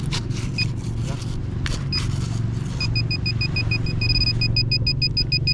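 A metal detector sweeping over buried iron on a beach gives a sharp, high electronic beep that repeats in steady, rapid pulses over a constant low rumble of wind and surf.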